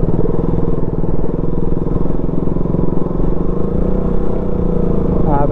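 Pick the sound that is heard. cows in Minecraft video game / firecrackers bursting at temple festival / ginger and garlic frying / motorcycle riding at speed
motorcycle riding at speed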